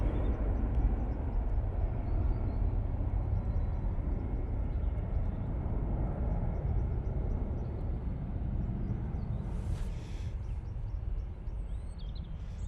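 A steady, broad roar from an airliner taking off at Manchester Airport holds at an even loudness for the whole stretch, heard from a distance with no talk over it.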